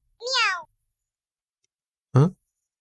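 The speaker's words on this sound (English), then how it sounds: "you hear an electronic meow behind you" Two short synthetic meows from an electronic cat plushie in a video game, separated by a pause of silence, the first longer and higher, the second brief and lower, close and clear.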